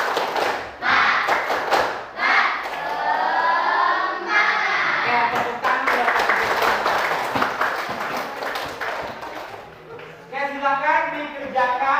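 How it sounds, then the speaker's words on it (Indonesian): A group doing a rhythmic clapping chant as an ice breaker, with loud patterned claps and thumps mixed with voices chanting and speaking, close and lively throughout. "Ice breakingnya kita tepuk semangat."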